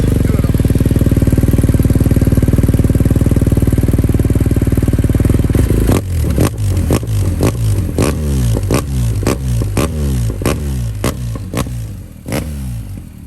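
Motorcycle fitted with a decatted full titanium Akrapovic exhaust, a loud steady high rev held for six seconds, then a string of sharp throttle blips with crackling drops between, close and alone.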